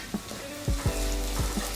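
Onion, garlic and ginger sautéing in a pan, a soft, close sizzle broken by a few brief scraping stirs over less than two seconds.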